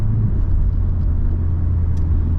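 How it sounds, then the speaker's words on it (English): A BMW E92 M3 cruises on Cypriot mountain roads, its engine a loud, steady low rumble heard from inside the car, with a constant drone and no voices. "behind the wheel of an E92 M3"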